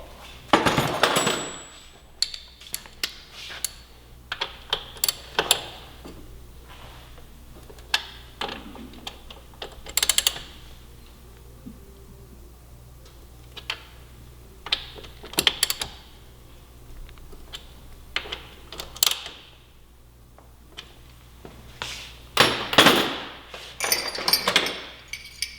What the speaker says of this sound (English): I'm going to go ahead and get after them with a ratchet to finish them up